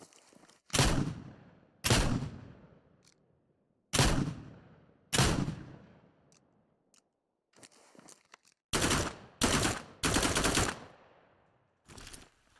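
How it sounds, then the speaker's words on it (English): Shotgun and assault rifle fire from a multiplayer first-person shooter, heard as loud close bursts: two single heavy blasts, then two more, followed after a pause by a rapid cluster of three quick shots and a faint final report. "So, the rook's been given a shotgun and an assault rifle."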